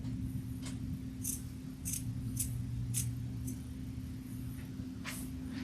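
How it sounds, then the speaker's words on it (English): Duckbill scissors trim embroidered fabric with a series of crisp, close snips at an irregular rhythm over a low steady background hum. "If you have duckbill scissors"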